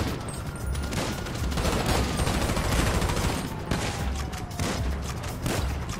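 Sustained gunfire in the video game GTA 5 comes as a dense, loud fusillade of rapid shots that carries on without a break from start to finish.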